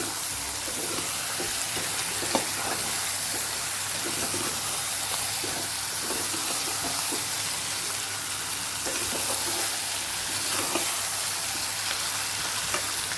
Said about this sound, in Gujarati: આપણે તેલ સાથે રીંગણા અને બટેકાને સાતડી લેવાના છે